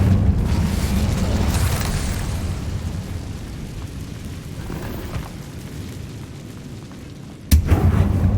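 Incendio fire spell cast in Hogwarts Legacy, opening with a whooshing, rumbling flame burst that fades out, followed near the end by a sudden sharp crack.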